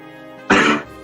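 One short, sharp cough, close and fairly loud, with a brief rough throaty burst.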